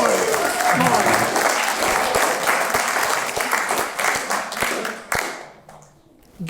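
Wedding guests applauding during a best man speech, a loud, full burst of clapping with distinct hand claps that tapers off near the end, followed by a short quiet moment.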